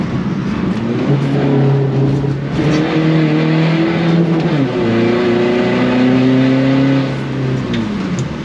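Car engine revs hard and loud in second gear while the wheels spin through a low-grip drift, the pitch rising and falling in long throttle-modulated surges with constant tire roar.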